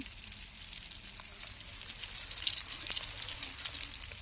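Oil spatters and sizzles in a pan as pangasius fish fries, with scattered sharp pops and crackles over a steady frying hiss.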